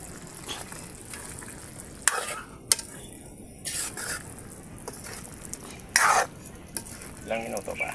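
Hotdogs dropped into a hot pan for spicy menudo and stirred, with a steady low sizzle, clinks of utensil against pan and a few louder scraping stirs, no one talking.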